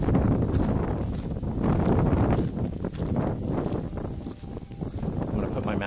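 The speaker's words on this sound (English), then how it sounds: "it's very windy right now" Wind buffets the microphone at a park in Japan in a constant, heavy rumble and rush that covers everything else.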